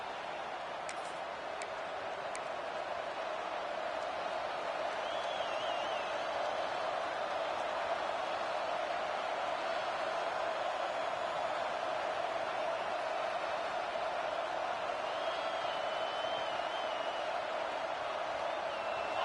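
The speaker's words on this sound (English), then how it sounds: "This crowd ready to make its presence known." A stadium crowd at an LSU college football game produces a broad, continuous roar of voices that stays steady and distant throughout.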